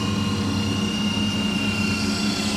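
An RC helicopter's rotor and motor throttle up, giving a loud, steady whirring drone with a buzzing engine tone that holds evenly throughout, close by and without talk.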